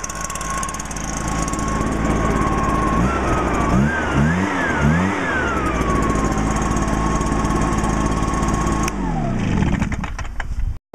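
A small two-stroke gas trimmer engine from a 2015 tune-up session runs steadily and loudly close by, with a few throttle blips in the middle before it drops back to idle and cuts off near the end.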